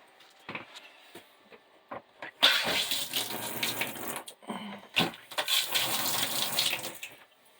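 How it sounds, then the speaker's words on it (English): Quick flush of a foot-flush toilet in a 2010 Heartland RV, a rushing burst of water starting after a few soft clicks and gurgling for several seconds, close and loud, with a brief dip midway. "Generally for liquids I'll just flush it quick."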